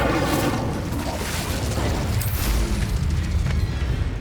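Incendio fire spell in Hogwarts Legacy on PS5, a loud continuous roaring blast of fiery rumble with crackling bursts throughout, dense and unbroken from start to finish.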